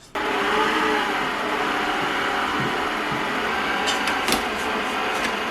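A blender whirs steadily as it mixes keto flour into a dry crumb, a loud continuous motor drone starting abruptly and running without pause, with a few faint clicks near the end.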